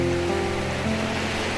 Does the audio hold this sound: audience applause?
no